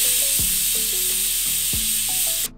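A pressure cooker on high flame with potato curry inside vents a loud, steady high hiss of escaping steam close by, with faint knocks underneath, cutting off sharply near the end.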